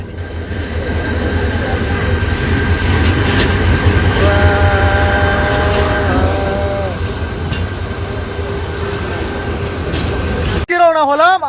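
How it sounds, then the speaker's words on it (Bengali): A passenger train on the Comilla to Sylhet route is heard at a station, a steady loud rumble with a held horn-like tone in the middle. A voice cuts in briefly near the end. "ট্রেন ইতিমধ্যে চলে আসছে"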